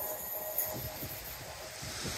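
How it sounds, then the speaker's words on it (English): A blue and green train passes along a seawall railway by the seafront, a faint, distant rumble with a soft hiss under wind. "One half of our blue and green train."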